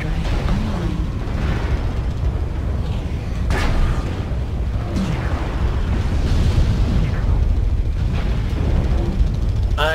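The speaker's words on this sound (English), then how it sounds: "Artillery strike online." Artillery strike explosions in the MechWarrior Online video game, a continuous heavy roar with repeated deep booms and rumbling blasts landing one after another, loud and sustained throughout.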